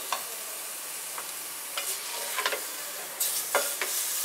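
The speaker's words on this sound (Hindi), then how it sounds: "ऐसे भून लेंगे तेल में।" Onion and spices frying in oil for Nagpuri Saoji chicken curry, a soft continuous sizzle broken by several close spoon stirs and scrapes against the pan, with no talking.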